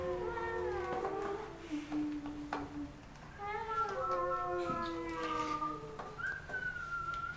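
Several drawn-out cat meows with rising and falling pitch, close by and fairly loud, one after another with brief pauses between them.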